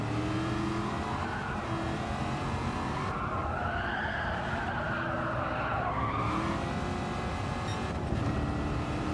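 Race car in Gran Turismo 7 screeching its tyres and droning its engine, loud and steady throughout with a shifting squeal through the middle, no talk.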